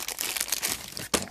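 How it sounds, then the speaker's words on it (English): A plastic Ziploc bag crinkles and rustles close by in a short burst of handling, ending with a sharp crackle as it is pulled open. "I can guarantee when I'm on camera I can't open the Ziploc bag"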